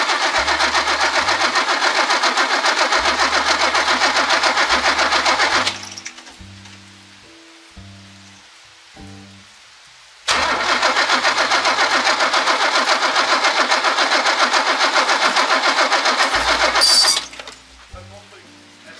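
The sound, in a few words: old Mercedes engine cranking while trying to start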